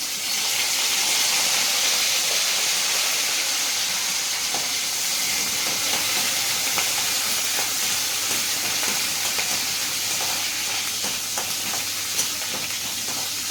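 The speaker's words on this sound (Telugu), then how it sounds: "ఫస్ట్ కరివేపాకు ఫ్రై చేసుకొని వేసుకొని పక్కకు తీసుకుంటాం." Curry leaves frying in hot oil for a murmura chaat, a steady bright hiss and sizzle that stays even and close throughout, with faint crackles scattered over it.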